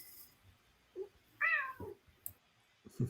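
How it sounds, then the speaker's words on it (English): A house cat meows a few short times, faint and fairly distant, in an otherwise quiet indoor room during an online conference call. "I hear a cat."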